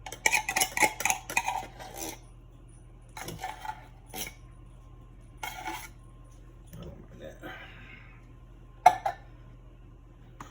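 A spoon stirs and mixes dressing in a bowl, bursts of clinking and scraping against the bowl with pauses between, close and moderately loud, with a brief voice in the background.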